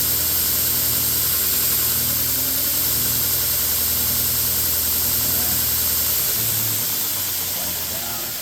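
Torus CNC 2x72 belt grinder, model M-90-AL on a KBMA VFD, running in reverse with a loud, steady whirring hum of motor and belt that slowly winds down near the end.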